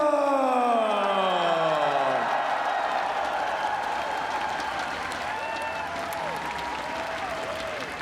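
A large crowd at EVO 2017 applauds and cheers for the new Smash 4 world champion, loud and sustained, swelling at first and then settling into steady clapping with whoops.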